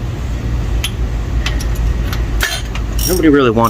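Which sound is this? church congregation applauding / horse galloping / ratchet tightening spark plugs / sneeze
ratchet tightening spark plugs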